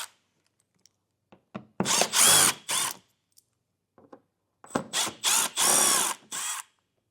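A power drill backs out T15 screws from underneath a 2025 Chevrolet Trax, two separate bursts of loud, close whirring with brief clicks between and near-silence around them.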